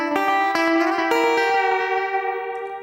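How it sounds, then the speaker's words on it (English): An electric guitar plays a passage with the vibrato bar pressed, each plucked note ringing out through a heavy echo effect so the tones overlap and fade in a steady, loud wash. "press down on that. That will of course sound much nicer with the echo."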